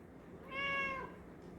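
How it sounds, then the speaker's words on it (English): A domestic cat gives a single clear meow with a rising then falling pitch, close by and fairly loud, with quiet room background before and after. "Hey, Keto Cat. You sleepy today? Yes. You just want some love?"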